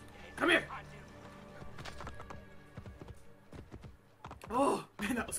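A horse gallops in the video game Assassin's Creed Brotherhood, rhythmic hoofbeats running under a voice, with a couple of louder bursts breaking through.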